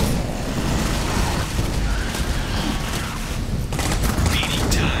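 Sustained gunfire in the video game Clive Barker's Jericho, a dense, loud barrage of shots and blasts running throughout, with sharper cracks near the end.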